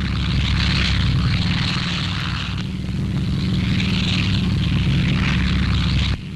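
WWII medium bombers, Mitchells and Marauders, flying overhead with propeller engines in a steady, loud, continuous drone that holds for several seconds before dipping slightly at the end, with no voices.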